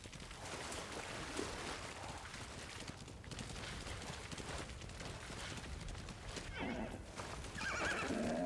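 A horse neighs and its hooves clip-clop in Ghost of Tsushima, the whinny and hoofbeats heard amid ambient game sound and a soft undertone of talk.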